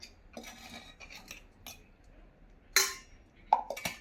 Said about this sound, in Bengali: হলুদ আর ফুলের পাঁপড়ি সিদ্ধ করে নিয়েছিলাম ওইটাকে একটু পেস্ট করে নিচ্ছি